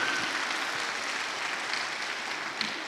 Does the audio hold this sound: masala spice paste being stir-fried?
no